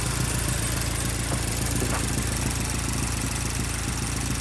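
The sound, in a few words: Mazdaspeed3 engine idling after Ford Fusion 2.5 bottom end swap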